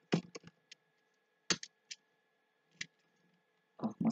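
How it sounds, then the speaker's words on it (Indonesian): Router configuration commands are typed on a computer keyboard in sparse, separate keystrokes and short clusters, close and quiet over a faint steady hum. "kita enter, kita enable, lalu kita ketikkan configure router"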